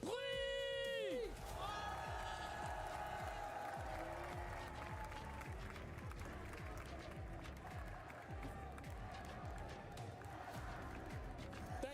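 An esports arena crowd at a Valorant semifinal cheers, whoops and applauds continuously, a dense roar filling the hall after a short tonal stinger at the start.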